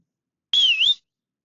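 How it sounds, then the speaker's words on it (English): A single short, clear whistle, rising and dipping slightly in pitch, heard alone in silence. "We can do a whistle."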